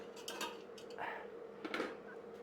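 Metal air fryer rack clinks and scrapes as a hemp-oiled potato is set on it in a kitchen, with a few light clatters of utensils and metal, close and fairly quiet.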